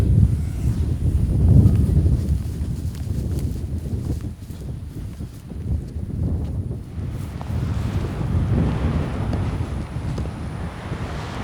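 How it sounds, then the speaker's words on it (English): Strong wind buffets the microphone in heavy, low rumbling gusts that rise and fall over several seconds. "It's pretty windy."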